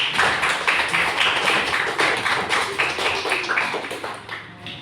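Classroom audience applauding student groups one, two and three, a dense burst of close clapping that holds steady for several seconds before thinning out at the end.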